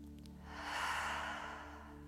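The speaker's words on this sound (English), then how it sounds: "and clear a full body breath." A slow, deep full-body breath exhaled softly and close, rising and fading over about two seconds during a guided relaxation session, with no talking.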